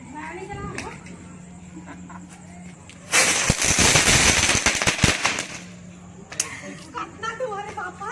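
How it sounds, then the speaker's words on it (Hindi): Firecrackers burst at a Dhanteras celebration, a loud crackling barrage of rapid pops lasting about three seconds, then a few scattered later cracks, with people talking before and after. "बताओ फटाका फोड़ू"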